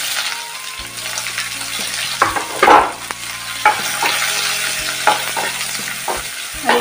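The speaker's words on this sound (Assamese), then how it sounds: "আৰু এইখিনি অলপমান ধুনীয়াকৈ ভাজি লওঁ" Onions with bay leaf and whole spices frying in hot oil, a loud, close, continuous sizzle with intermittent scrapes and clanks of a spatula stirring the pan.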